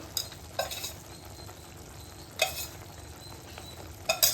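Tomatoes and chilli powder stirring and sizzling in a hot pan for egg gravy, with a few sharp scrapes of a utensil against metal over a steady frying hiss.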